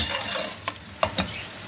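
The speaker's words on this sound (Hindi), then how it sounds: "ये बस हम भून लेंगे इसको अच्छी तरीके से" Meat is stir-fried over a high flame with a soft continuous sizzle and a few quick scrapes and taps of a spoon against the pan, close up.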